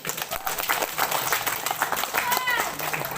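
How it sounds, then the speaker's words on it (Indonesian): Villagers at a first rice-planting event clapping for the women, a short burst of crowd applause mixed with talk and background voices. "Tepuk tangan dulu untuk ibu-ibu."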